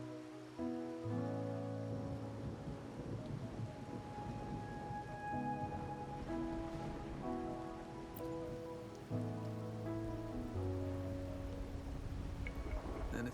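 Rain falling in the Wuthering Waves video game, a steady faint patter on surfaces running throughout beneath sustained musical tones, with no talking.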